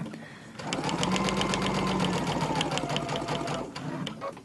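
A sewing machine stitching quilt fabric for a charm-pack tree skirt runs in one continuous close burst of rapid needle pulses and motor hum, then slows and stops.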